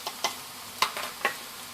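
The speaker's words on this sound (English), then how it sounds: "I'm going to fry them for about 2 minutes" Chopped garlic, broccoli and red pepper fry in a pan while being stirred, with a few sharp scraping stirs standing out over a soft, steady sizzle.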